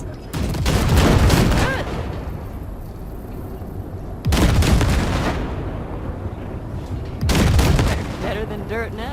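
Gunfire from the Basilisk cargo ship blasting wrecks in Cyberpunk 2077, three loud booming barrages of heavy shots, each decaying into rumbling, with a voice speaking briefly.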